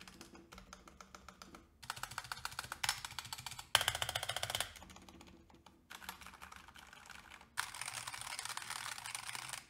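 Razer Huntsman Mini keyboard switches clacking under fast typing, crisp rapid keystrokes in several bursts with short pauses between them, close and fairly quiet, with no voices.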